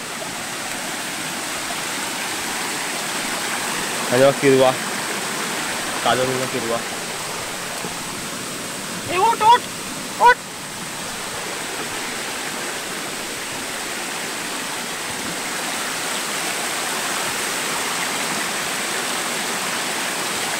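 Water from a small forest waterfall fed by a mountain stream rushes in a constant broad hiss, with a few brief bursts of nearby talking over it.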